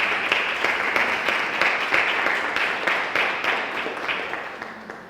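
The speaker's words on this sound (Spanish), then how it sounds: "aplausos, ¿vale? También." Audience at a university information session claps after a presentation, a full round of applause with distinct individual hand claps standing out, slowly tapering off toward the end.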